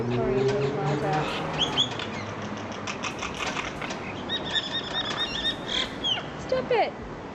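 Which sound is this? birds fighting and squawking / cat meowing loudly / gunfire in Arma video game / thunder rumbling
birds fighting and squawking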